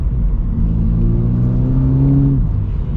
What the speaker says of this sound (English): This sounds significantly better than the last version of the 86